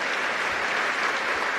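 Steady applause from a church congregation after a prayer, dense and continuous throughout with no pauses.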